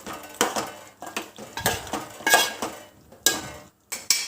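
A utensil scrapes and clinks against a clay pot while deep-fried onions are stirred into chicken dum biryani, in loud, irregular bursts of metallic scraping and knocking with brief quiet gaps between strokes.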